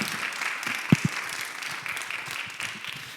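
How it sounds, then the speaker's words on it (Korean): Congregation applause at a church worship service, a steady wash of many hands clapping in a reverberant room with a couple of sharper low thumps near the start. "우리 교수님 한 번 더 다시 박수로 감사의 인사로 드리겠습니다."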